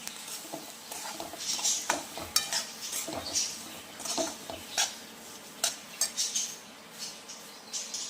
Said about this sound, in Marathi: आत्ता आपण याच्यामध्ये रवा टाकून घेऊया आणि याला मिक्स करून घेऊया